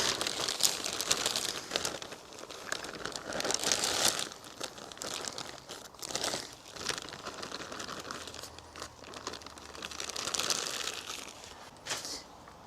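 A bag of potting soil is emptied into a garden container for cabbages and flowers, with close, continuous crinkling of the plastic bag and soft crunchy rustling of the soil pouring out over several seconds.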